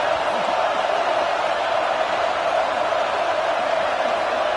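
A football stadium crowd at a Penn State game roars continuously as fans try to inspire the defense, producing a dense, loud, steady wall of cheering.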